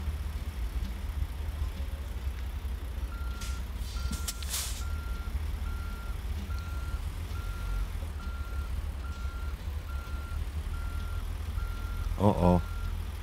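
Reversing beeps from a truck in American Truck Simulator, a steady evenly spaced series of electronic tones over a constant engine drone, with someone talking throughout.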